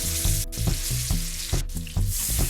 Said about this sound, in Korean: 팬에 기버터 넣고 맛있게 익혀줄게.